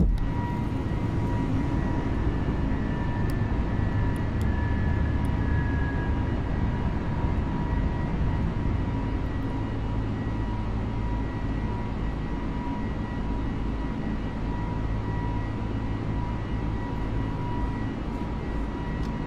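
Airliner engines roaring steadily during takeoff roll and rotation in a flight simulator, a continuous loud broadband rumble with a faint high tone, constant throughout with no talk.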